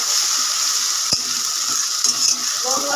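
Spicy mustard paste sizzles loudly in a hot pan, a bright continuous hiss with a sharp tap near the middle and light scraping of stirring toward the end; no voices.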